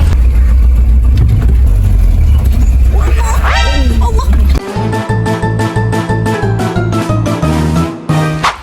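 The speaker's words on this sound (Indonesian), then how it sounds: "sekarang balik naik taksi dan gue duduk di depan bersama kang supir" Taxi car in Kazakhstan hums along with a steady engine drone and road rumble from inside the cabin, with a rhythmic, pulsing sound joining partway through and a voice briefly audible.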